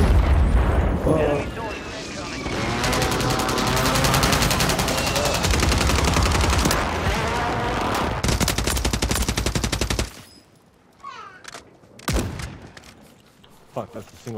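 Gunfire rattles in Call of Duty MW3 Warzone, a dense run of loud shots and blasts that breaks off into a few isolated sharp reports, with voices talking over the action.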